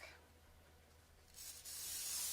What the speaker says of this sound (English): Can you also hand me the pan spray? I am going to grease it